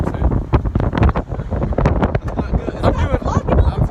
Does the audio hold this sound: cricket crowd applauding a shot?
no